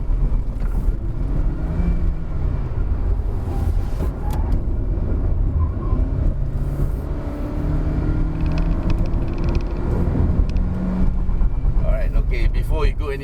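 A 2019 Proton Saga A-segment car's engine pulling hard up a steep hill, a steady strained drone inside the cabin under continuous talk.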